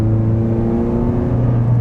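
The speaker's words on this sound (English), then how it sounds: "This also does have that catback exhaust" A 2021 Toyota Corolla Apex Edition with a manual gearbox and catback exhaust, held at half throttle, gives a steady, moderately loud low engine drone that stays even throughout.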